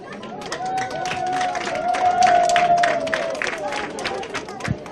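A crowd at an outdoor Green Party political rally claps and cheers for the party president, a mix of scattered claps and shouting voices, with a long, sustained whistle-like tone in the middle.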